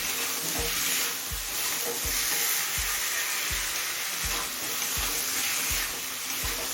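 Yam and potatoes fry in a pan, a steady bright sizzle running throughout with regular soft knocks of stirring about every second, fairly close and alone.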